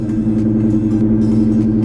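Steady low exhaust drone from a car fitted with Flowmaster mufflers, a deep even rumble idling close by with no talk over it.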